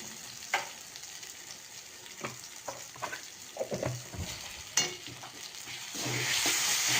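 Food sizzles loudly in a hot pan as turmeric powder goes in, with a utensil stirring and scraping in irregular clinks and the frying swelling louder toward the end; no one speaks.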